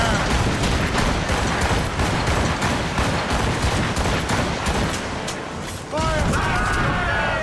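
Cannon broadside fire from a sailing warship in the video game Assassin's Creed Rogue, a dense continuous barrage of booming shots and crackling impacts, loud and close, with shouted voices mixed in.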